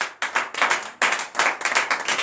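A church congregation clapping in bursts of rhythmic, fairly loud hand claps, several swells of applause rising and dropping across the span, with no voices over them.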